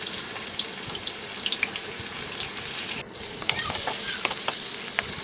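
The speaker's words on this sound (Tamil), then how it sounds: "எண்ணெய் நல்லா சூடான பிறகு கட் பண்ணி எடுத்து வச்சுருக்க வெங்காயத்தை வந்து இதோட வந்து சேர்த்துட்டு நல்லா வந்து வதக்கி விடுங்க." Chopped onion sautés in hot oil for egg rice, a steady close sizzle with scattered small crackles and pops, dipping briefly midway before resuming at full strength.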